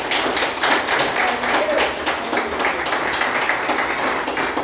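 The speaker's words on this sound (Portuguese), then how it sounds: "Dê uma linda salva de palmas bem forte." A church congregation claps loudly and continuously, a dense patter of applause that holds steady throughout.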